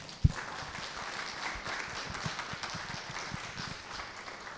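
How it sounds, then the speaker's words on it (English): An audience at a Buddhist talk on voluntary euthanasia gives a round of applause, a faint, steady wash of clapping heard from a distance with one sharper knock near the start. "maybe we can show our appreciation with a round of applause"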